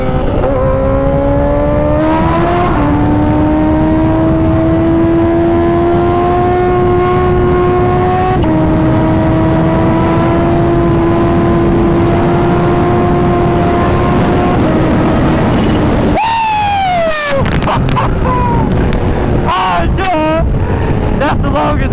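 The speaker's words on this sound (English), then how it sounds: "That's the longest H2 wheelie in history." Kawasaki Ninja H2 supercharged motorcycle engine held at a loud, steady high-rev drone through a long wheelie, pitch rising slightly after a gear shift, then a sharp rev drop and blips near the end, with wind buffeting throughout.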